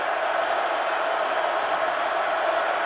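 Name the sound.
football stadium crowd cheering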